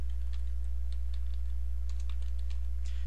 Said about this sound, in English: in the first row we're going to type pound show tooltip